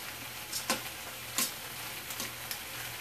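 Ham frying in a pan gives a faint, even sizzle broken by several brief crackles and pops.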